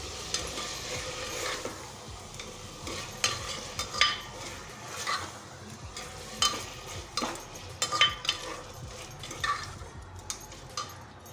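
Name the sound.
chopped tomatoes frying and being stirred in a pan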